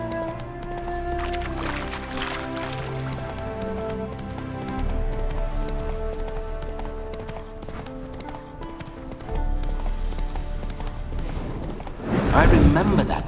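Roach, the horse in The Witcher 3, clip-clops steadily along with hooves close and clear over a game music bed, then gives a loud burst of snorting or whinnying near the end.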